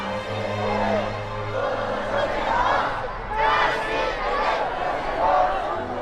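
A festive crowd in Tibetan streets cheers and shouts greetings, waves of overlapping voices rising and falling in bursts over a low murmur of chatter.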